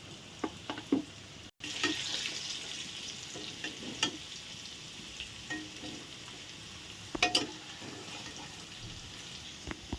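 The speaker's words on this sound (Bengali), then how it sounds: "এখন সুন্দর করে লাল লাল করে আলুগুলো ভেজে নিই" Potatoes fry with a steady sizzle in a pan, punctuated by a few stirring clatters and scrapes; no voices.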